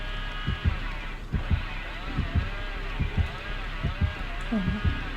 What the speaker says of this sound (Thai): เต้นใกล้มากเสียงหัวใจ